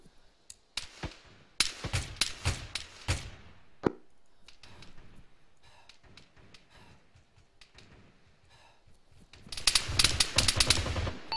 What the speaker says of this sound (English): HMG on top of building, west.